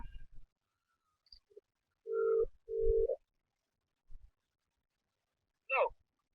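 A telephone line tone sounds when calling the police: two steady beeps in a quiet room, with a few faint breaths or murmurs between them.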